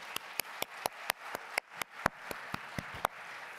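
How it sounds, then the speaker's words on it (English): Applause at the closing of a UNESCO General Conference session, heard as crisp, evenly spaced claps in a steady rhythm, about four per second, over a quiet room. "let's have a round of applause for absolutely everybody who was"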